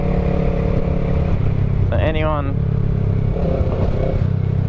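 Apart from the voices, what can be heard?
motorcycle exhaust while riding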